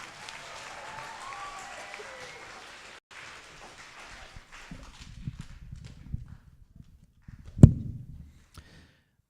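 Audience applause for contestants after a round of a school spelling bee at Tipton-Rosemark Academy, a broad wash of clapping for several seconds that thins out, followed by scattered sounds and one sharp knock.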